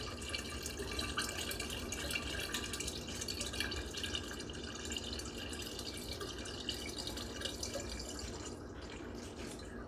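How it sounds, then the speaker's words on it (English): Wild berry juice is poured steadily into a container for berry wine, giving a continuous, soft trickling and splashing stream that runs for the whole stretch with no talking over it. "And just pour that in."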